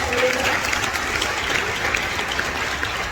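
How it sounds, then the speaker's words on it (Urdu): Loud applause for the shepherd from a church congregation during a sermon, a thick, continuous wash of clapping that holds steady throughout. "اس چرواہے کے لیے زوردار تالیاں بجائیے"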